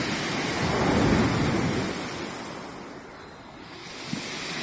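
Foamy sea waves under a cloudy sky, a steady broad wash of surf swelling and receding close by, with gusts of wind and no voices.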